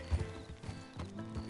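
Donkey hooves clip-clopping along in Red Dead Redemption 2, a steady run of soft, close hoofbeats with faint background ambience.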